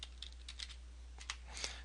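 Quiet, close typing on a computer keyboard, a handful of light, irregular key taps over a steady low electrical hum.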